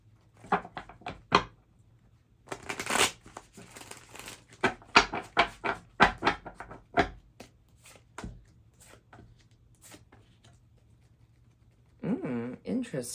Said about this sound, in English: let's shuffle these cards for you.